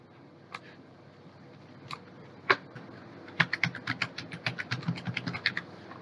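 Keys clatter on a computer keyboard as someone enters details on a Qatar e-services form: a few isolated taps, then a quick close burst of typing with no voice over it.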